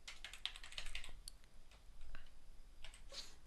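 A name is typed on a computer keyboard in soft, irregular bursts of light key clicks, close but quiet.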